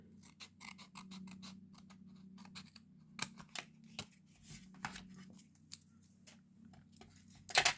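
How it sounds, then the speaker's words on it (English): Scissors cutting a piece off while crafting, a series of quiet crisp snips and rustles over a low steady hum, with a louder clatter at the very end. "cut this bit off."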